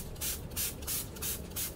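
A NAPCA hydrating toner mist is sprayed onto a face in five quick, close pumps, each a short soft hiss in an even rhythm.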